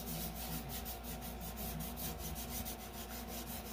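A fingertip rubs chalk over paper in a steady, soft, close scratching, repeated in quick even strokes for several seconds, fairly faint, with no voices.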